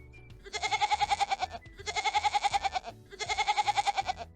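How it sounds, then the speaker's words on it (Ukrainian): A goat bleats three times in drawn-out, wavering calls, each about a second long with short pauses between, fairly close and clear. "Та це ж кізонька."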